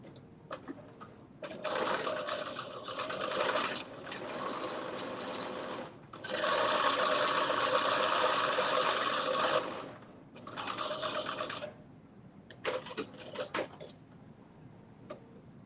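Sewing machine running a long basting stitch along the bottom of a project, with several steady whirring runs of rapid mechanical ticking separated by short pauses, ending in a few brief bursts.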